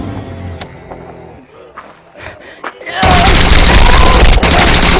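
Short action film gunfire from a firing AK-47 and a .44: a loud, dense burst of shots erupts about three seconds in and continues steadily to the end, after a quieter stretch of scattered knocks and thumps.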